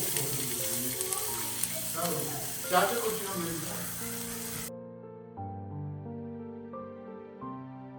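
Garlic frying in a pan at home for dinner, giving a steady hiss and crackle of hot oil for several seconds before it cuts to background music.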